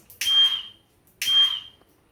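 A firefighter robot car's fire alarm sounds two identical loud electronic beeps, each about half a second long and one second apart, close and alone with no talking.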